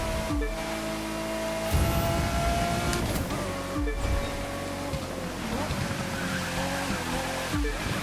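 Car racing and skidding in The Crew 2, with a steady, loud engine drone, occasional tire squeals and brief dips in the roar, under a player talking.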